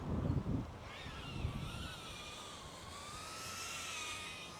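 Wind gusting outdoors across a microphone during FPV drone flying, a low rumbling buffet that is strongest at the start, with a faint high motor whine running through it.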